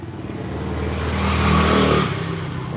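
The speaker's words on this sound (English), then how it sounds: "you do have some noisy scooters in this country" A motor scooter engine buzzes past nearby in the Thai countryside at Baan Tawai Village, its whine rising and then fading over about three seconds.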